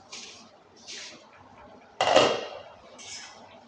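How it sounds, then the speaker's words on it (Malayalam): A spoon stirs and turns mackerel peera with mango in a pot, giving soft intermittent scrapes and one louder clattering knock against the pot partway through. "ഒന്ന് ചെറുതായിട്ടൊന്ന് നമുക്ക് അടിയിൽ നിന്നൊന്ന് തിരിച്ചിടാം"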